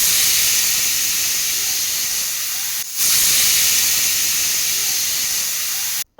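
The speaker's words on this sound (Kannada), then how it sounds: "ಸೊ 2 ವಿಸಿಲ್ ಬಂದ ತಕ್ಷಣ ಸ್ಟವ್ ಆಫ್ ಮಾಡಿಕೊಂಡು ಕುಕ್ಕರ್ ಕೂಲ್ ಆಗಾಕ್ಬಿಡಿ" A pressure cooker cooking rice whistles loudly and close, a continuous high hissing steam jet that breaks off for an instant midway, resumes, then cuts out abruptly at the end.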